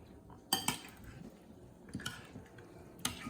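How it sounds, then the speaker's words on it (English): A utensil stirs pico de gallo with about a quarter cup of Mexican beer mixed in, giving three or four separate clinks and scrapes against the bowl with quiet pauses between them. "Then you just stir."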